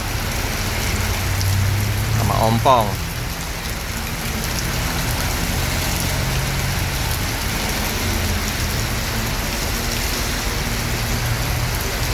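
Heavy rain pours steadily at a bus terminal in Palembang, a dense close hiss on surfaces, with a brief voice and a faint vehicle sound early on.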